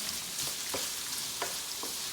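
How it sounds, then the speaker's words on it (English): Onion sautéing in a pan for spaghetti sugo all'amatriciana, a steady close sizzle with a few soft scraping stirs mixed in, no voices. "we're going to saute this until it becomes translucent"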